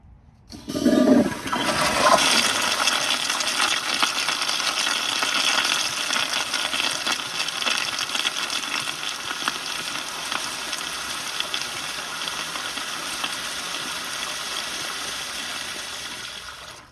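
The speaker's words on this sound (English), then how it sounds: "All right, so the flush is a little bit weaker," A 2015 Kohler Highcrest toilet flushing with its flush turned slightly weaker: a loud rushing gush of water sets in at once and keeps pouring steadily, easing only a little over about fifteen seconds.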